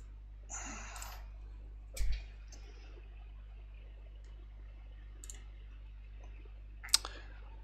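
A few sparse, sharp clicks sound from a Bluetooth keyboard, spread irregularly across a quiet room with a steady low hum underneath.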